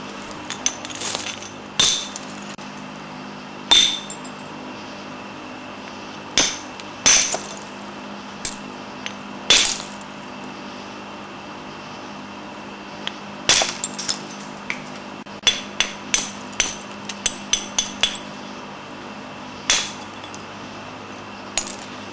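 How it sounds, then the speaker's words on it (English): Sharp, irregular clicking strikes of a hammer knocking flakes off a flint core, about a dozen separate hits spaced through the clip, some clustered close together, heard fairly near over a steady low background hum with no talking. "So it wouldn't hurt if I took a row of flakes off it."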